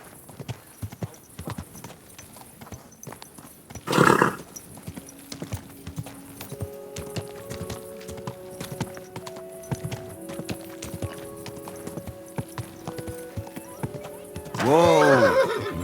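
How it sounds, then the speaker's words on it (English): A horse in Kingdom Come Deliverance 2 clops along with steady hoofbeats, letting out a sharp whinny early on and a longer loud neigh at the end, while background music plays and no one speaks. "Easy, good horse."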